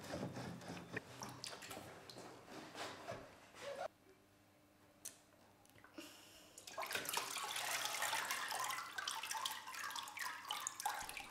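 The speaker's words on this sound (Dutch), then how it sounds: "Nu wachten de kinderen tot het meeste water eruit gedruppeld is." Water drains and drips from a papermaking sieve holding paper pulp, made by children in a class, with trickling and splashing that drops to a quiet lull midway before turning louder and busier.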